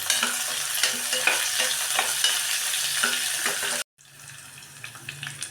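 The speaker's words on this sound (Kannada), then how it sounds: "ನಾನು ಕಮ್ಮಿ ಎಣ್ಣೆ ಹಾಕಿ ನಾನು ಒಗ್ಗರಣೆ ಹಾಕಿದ್ದೀನಿ." A tempering of curry leaves sizzles in a little oil, a loud close crackling hiss with stirring scrapes, cutting out abruptly and then resuming more quietly.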